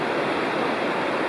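Bald River Falls in the Bald River Gorge Wilderness, a loud, steady rush of falling water that stays constant and broadband throughout, with no voices.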